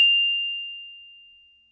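A single bright electronic ding rings out cleanly and fades away slowly into silence.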